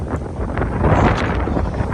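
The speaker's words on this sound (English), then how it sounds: "It's real windy and cold." Strong gusting wind buffeting the microphone, a loud continuous roar with rising and falling rushes, no voices.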